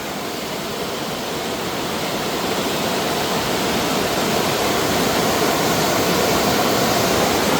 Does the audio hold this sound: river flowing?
yes